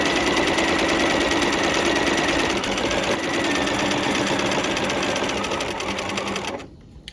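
Sewing machine running fast and steady to sew a narrow rolled hem over pearl cotton at a short stitch length, a loud close whirring drone that cuts off just before the end.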